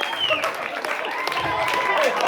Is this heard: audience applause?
yes